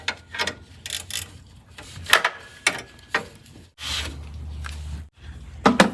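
A ratchet loosens a 10 mm bolt on a 2006 Toyota Corolla's A/C system, with bursts of quick clicking pawl strokes and short mechanical rattles, close and fairly loud between pauses.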